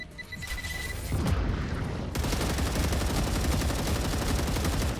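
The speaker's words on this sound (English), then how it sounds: "This calls for a grenade." Grenade blast in a factory-building video game: a sudden loud boom gives way to dense, sustained crackling gunfire-like rumble that fills the rest of the moment, with no talking.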